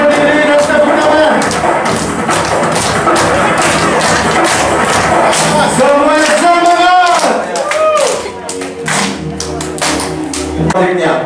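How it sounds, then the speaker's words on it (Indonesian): An audience at an indoor business launch event stands and claps along to loud music, with steady rhythmic hand claps under a singing voice and a short cheer from a speaker. "Semuanya berdiri dan tepuk tangan."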